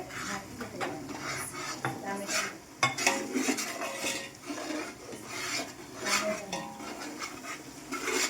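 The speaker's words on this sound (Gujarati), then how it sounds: "ત્યારબાદ તેમાં આપણે હળદર એડ કરવાની છે, એટલે હળદર સરસ તેલમાં શેકાઈ જશે" Turmeric stirred and roasted in oil in a pan for wheat khichdo, with busy scraping and clinking of a spoon against metal over a light sizzle, close and continuous, a voice faintly present at times.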